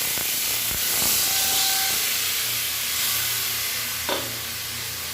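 Water added to vegetables frying in a pan with chopped green chilli, giving a steady loud sizzle and hiss with light stirring scrapes, close up and with no talk.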